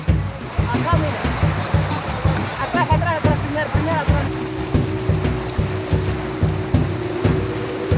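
Rushing river water flows steadily through jungle with a dense, continuous churn, while a low motor-like hum rumbles underneath and grows steadier in the second half.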